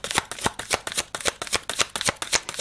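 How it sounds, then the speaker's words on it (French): A deck of cards is shuffled for a spiritual card reading: a rapid, regular run of crisp riffling snaps, roughly a dozen quick bursts in a steady rhythm, close and clear with no talk over them. "un petit tirage spiritualité des conseils de Michael"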